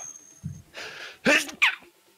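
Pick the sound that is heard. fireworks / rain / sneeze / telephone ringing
sneeze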